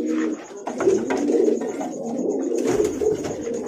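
Domestic pigeons, a female in a loft or cage, cooing in a steady series of low, throaty calls, close and fairly loud, with no one talking over them.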